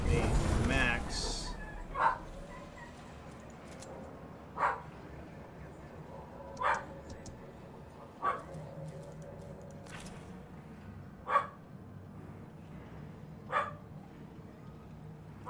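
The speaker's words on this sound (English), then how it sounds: "Oh, be quiet, dog." A dog barks in single sharp yaps about every two seconds, six or seven times, moderately loud against a steady low background hum with no talk.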